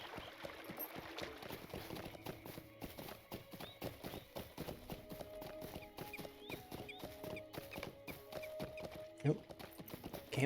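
Horse hooves clip-clop in a steady rhythm in the video game Lord of the Rings Online, a continuous, fairly faint trotting pattern heard while a player talks over it.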